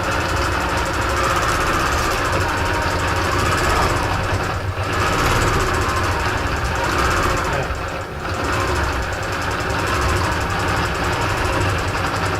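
A longarm quilting machine runs steadily, stitching binding on a quilt on the frame: a loud, continuous mechanical hum and rattle with two brief dips, no talking.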